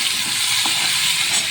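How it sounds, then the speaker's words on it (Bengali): Potatoes fry in a pan for a home breakfast curry, giving a steady, even hiss of sizzling oil that runs unbroken and close, with no voices. "আলু ভাজা হচ্ছে"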